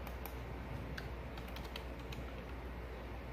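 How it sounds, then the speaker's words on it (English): Fingers type on a computer keyboard, entering a search into a browser. The soft, scattered key clicks are faint and irregular against a quiet room hum. "So I just started typing Mila into my search browser thing"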